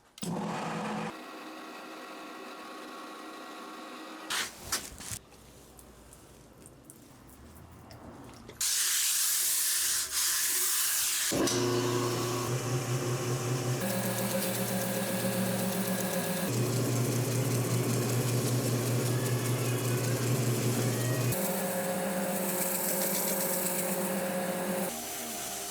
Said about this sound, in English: we're going to bevel the entire edge of the diamond and then we can move on to polishing